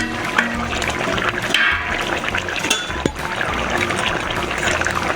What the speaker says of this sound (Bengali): আর দিয়ে দেব মাছ ভেজে রাখা মাছগুলো।